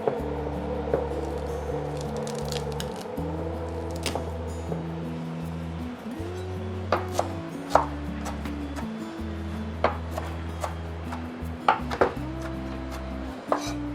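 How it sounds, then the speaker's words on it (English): Parsley is roughly chopped on a board with a series of sharp, irregular knife taps over a low steady background hum, close and moderately quiet. "Just roughly chopped and into the food processor."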